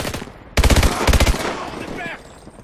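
Rapid automatic gunfire rattles in two close, loud bursts during a prison shootout in Call of Duty: Advanced Warfare, with scattered shots and a brief radio-like voice trailing after.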